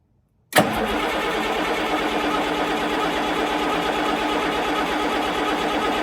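A large Cummins 8.3-litre diesel engine in a Fiat-Hitachi W170 loader cranks and fires up abruptly after a moment of quiet, then settles into a loud, steady, rumbling idle close by.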